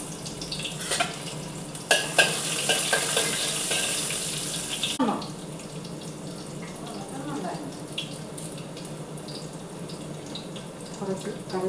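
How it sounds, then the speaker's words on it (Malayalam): Mustard seeds and chopped onion fry in a pan for a Kerala-style prawn curry, a close sizzle with clatter and stirring, loudest early and then softer, with someone talking over it. "ഉള്ളി അരിഞ്ഞ് വെച്ചിട്ടുണ്ട്, അതും കൂടി ഇട്ട് കടുക് വറുത്ത്"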